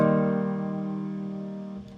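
A single strummed synth chord played in FL Studio rings out as a sustained, bright harmonic tone, fading slightly over about two seconds before cutting off.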